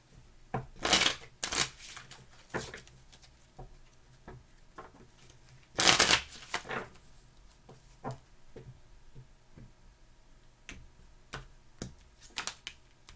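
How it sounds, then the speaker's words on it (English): Tarot cards are shuffled in quick riffling bursts, two louder ones standing out, with scattered light clicks and taps between them. "2 more shuffles."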